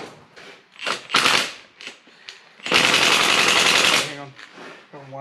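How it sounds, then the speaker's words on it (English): A large impact wrench rattles in loud bursts on 14 mm multi-hex bolts of a black Toyota Hilux Xtracab with a 1UZ engine, one short burst and then a long sustained hammering run, with people talking between the bursts. "do you want a rattle gun to do that? I've got a big one."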